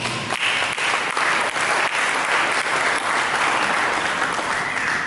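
Dense, steady applause from a church audience at a Sunday service sermon, loud and continuous with no voices standing out.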